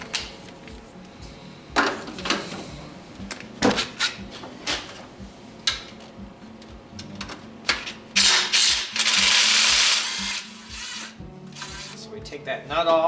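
A hand ratchet works 12 mm bracket bolts loose on a Nissan 3.3L V6 during a timing belt and water pump job, giving close bursts of rapid clicking and metallic clatter between stretches of talk.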